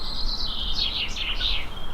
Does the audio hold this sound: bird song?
yes